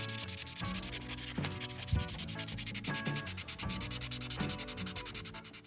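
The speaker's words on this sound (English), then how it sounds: "I will sand every single part with a 400 grit" Rhythmic scratchy rubbing of 400 grit sandpaper on a small McLaren 720S scale model part, repeated back-and-forth strokes, close up with no voices.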